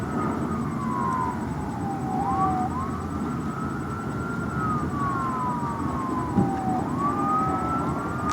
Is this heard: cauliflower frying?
no